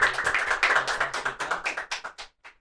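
A small audience at a school podcast claps for a vice principal of facilities, about a dozen quick, close claps in an uneven rhythm that thin out and stop after a couple of seconds.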